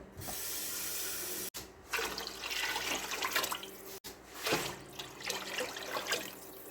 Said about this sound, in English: Now I'm going to put two more quarts of water.